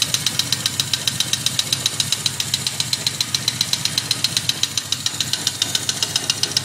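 A running 1979 Yamaha XS 1100 Special motorcycle engine with a knocking, clacking fault, a loud, steady rapid ticking clatter repeating evenly over the engine's idle drone.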